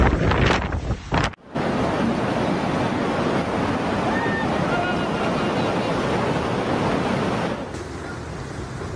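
During a hurricane's storm surge at Myrtle Beach, heavy wind roars across the microphone over a dense wash of crashing surf, a constant loud rush after a brief buffeted start.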